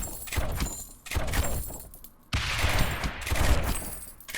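Towers fire in the roguelike tower defense game Rogue Tower, producing dense bursts of rapid gunfire-like crackle in several loud volleys separated by brief pauses.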